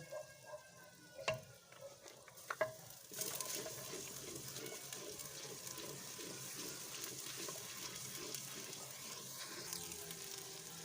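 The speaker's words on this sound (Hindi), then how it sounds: "हम ये अदरक लहसुन का पेस्ट डालेंगे।" Ginger garlic paste dropped into a hot pan for chicken korma, a few sharp clinks at first, then steady sizzling frying with stirring scrapes running throughout.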